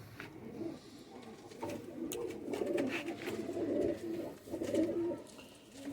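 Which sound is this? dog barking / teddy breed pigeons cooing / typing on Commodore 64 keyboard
teddy breed pigeons cooing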